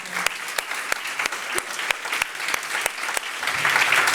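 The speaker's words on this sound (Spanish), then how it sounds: "un aplauso para Cris" An audience at a social innovation event applauds, a steady wash of clapping with rhythmic individual claps standing out, growing slightly fuller toward the end, close and fairly loud.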